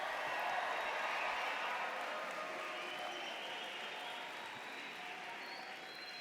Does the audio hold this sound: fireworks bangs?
no